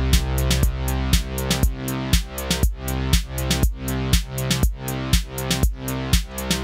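A sustained synth bass on a Deluge synthesizer ducks in a sidechain pumping pattern under a steady four-on-the-floor kick, each kick hit sharply dipping the bass before it swells back, a loud, regular, rhythmic throb.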